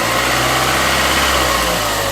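A 1999 Acura 2.3 CL four-cylinder engine runs steadily at close range, a loud, even idle hum with a low rumble that holds without a break.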